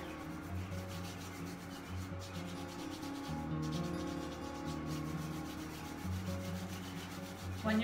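Dry palms rubbing together steadily during a yoga class warm-up, a soft continuous friction swish running for several seconds with no talk over it.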